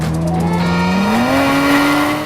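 A Toyota Avalon TRD race car drives fast on a track, its engine note climbing steadily in pitch as it accelerates, loud and continuous with a hint of tire noise.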